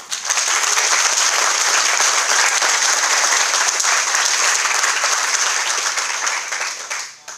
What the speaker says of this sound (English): I'd like to ask for a round of applause for Doug Richardson and Trish Whitcomb